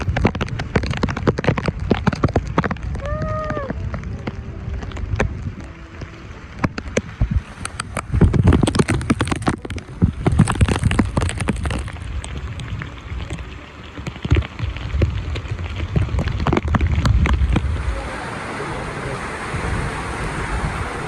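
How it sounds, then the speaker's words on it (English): Heavy typhoon rain pours down in a dense, continuous hiss with irregular louder gusts and splashes throughout, no voices. "Within minutes, it started raining like crazy."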